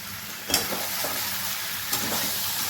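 Mutton fries in a pan with tomato, spices and ginger-garlic paste, a loud steady sizzle broken by a couple of scraping stirs of the spoon, close up with no talking.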